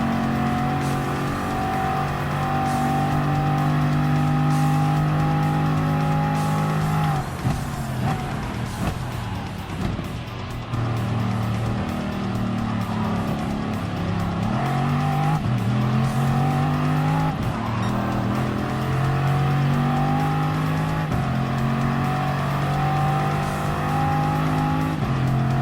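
Race car engines roar continuously in Gran Turismo Sport, with harmonic revs rising and falling through gear changes and tires squealing through corners, loud and close with no talk.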